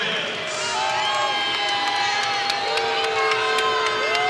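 Arena crowd at a college wrestling dual meet, Iowa at Oregon State, roars loudly and steadily after a close decision, with mixed shouts and whistles throughout.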